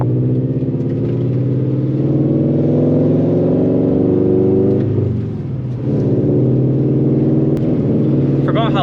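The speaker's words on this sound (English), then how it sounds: "How loud this car is. This car is so loud." Loud Scion FR-S / Subaru BRZ / Toyota 86 sports car driving after six months in storage, a continuous heavy engine drone and rumble that dips briefly as the revs change, heard from inside.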